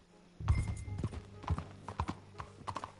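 Horse hooves clip-clop at a steady riding gait in Red Dead Redemption 2, a series of distinct, fairly close thuds in an even rhythm, with faint background ambience.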